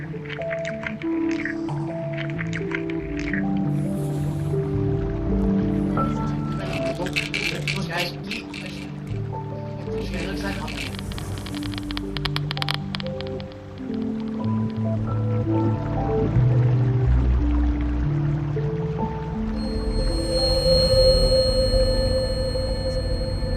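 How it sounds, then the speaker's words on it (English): Water-derived sound art in an installation, triggered as a viewer rolls over it: layered squishing, dripping and flowing tones with sustained low drones and sparkling high accents, continuous and fairly full throughout. "This is the sound signature of water."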